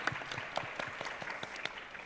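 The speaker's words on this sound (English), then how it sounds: "a round of applause for the whole of the panel" A short burst of steady applause from a crowd, dense overlapping claps at an even level throughout.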